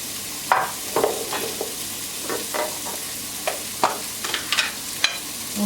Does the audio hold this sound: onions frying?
yes